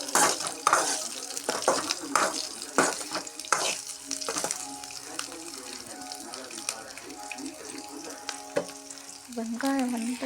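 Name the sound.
onions being sautéed in a pan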